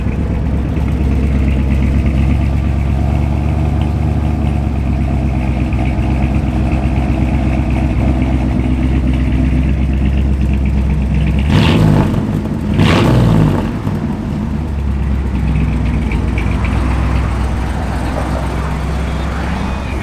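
A 1960 Chevrolet Impala engine idles steadily with a low rumble, briefly revving twice near the middle before settling back to a smooth idle.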